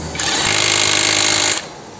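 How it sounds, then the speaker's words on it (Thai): A Makita cordless impact wrench tightens a bolt in one loud, continuous rattling burst lasting about a second and a half before cutting off sharply. "ลองเอาโมเลต้าขันดูนะครับ"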